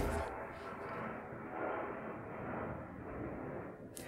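Steady broad roar of aircraft passing overhead, a continuous rumbling wash that swells slightly without fading away.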